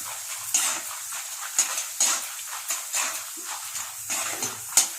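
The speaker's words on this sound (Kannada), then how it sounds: "ಈ ರೀತಿ ಫ್ರೈ ಮಾಡ್ತೀನಿ" Chitranna cooking in a home kitchen, with a pan stirred briskly, steady frying hiss under repeated utensil scrapes and clinks against the pan, close and moderately loud, with no talking.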